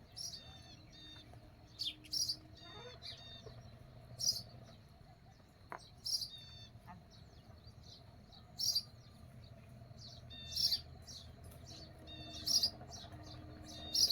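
Small birds, likely sparrows, chirp in short repeated bursts at a home where roti has been scattered for them, set against a steady insect and cricket drone with faint background hum.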